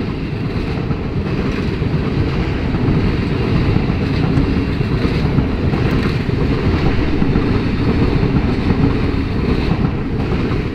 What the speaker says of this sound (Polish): to wyjeżdża tutaj ten IC4 brudny 9014